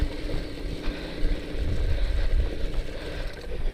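The small motor of an old Go-Ped scooter, left unused for over fifteen years, runs continuously with a rough, low drone under heavy wind rumble on the microphone, close and unbroken.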